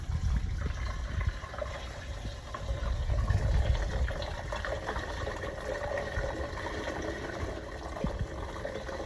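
Amber pho beef broth pours steadily into a soup pot, a continuous close gushing and splashing of liquid that lasts throughout without a break.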